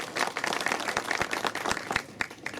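Audience clapping at a restaurant opening ceremony, dense close-up claps in a lively patter.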